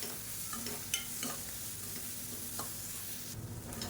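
Ingredients for egg fried rice sauté in a pan under a low, steady sizzle, with a few faint spoon scrapes and clicks, quiet and close, with no voices.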